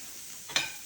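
A5 Wagyu steak on an indoor Zojirushi grill gives a soft steady sizzle, with one brief louder hiss as the meat shifts on the hot surface.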